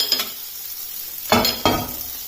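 Fish pieces fry on a hot tawa with a steady close sizzle, broken by two sharp scraping stirs near the end; no one speaks.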